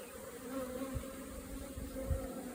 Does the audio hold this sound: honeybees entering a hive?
yes